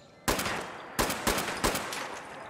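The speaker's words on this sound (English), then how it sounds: "Single shot AK." A handmade AK rifle in Fallout 76 fires four loud single shots, one after another with roughly half-second gaps. Each shot is a sharp crack with a short decaying tail, and nobody speaks.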